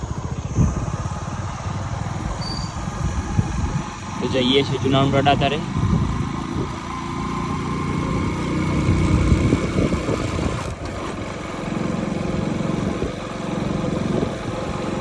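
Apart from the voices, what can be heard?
motorcycle riding off on the road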